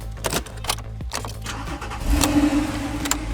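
A car engine cranks and catches, settling into a steady idle under faint background clatter, heard up close from inside the vehicle.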